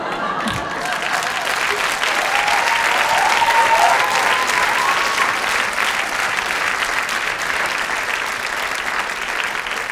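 Sustained audience applause at a stand-up comedy show, a dense wash of many hands clapping that swells slightly and then holds steady, loud and full with no speech over it.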